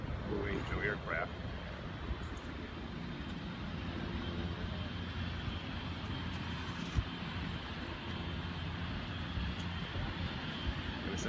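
U.S. Navy Blue Angels jet aircraft at Belle Chasse before the New Orleans Air Show, a steady distant engine roar filling the air while someone talks over it.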